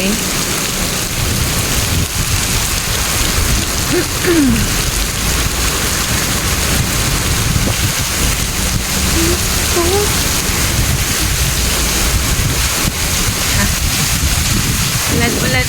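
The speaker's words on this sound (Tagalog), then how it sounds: "ito na maulan na" Steady heavy rain pouring down in Singapore, a dense continuous hiss with a low rumble underneath.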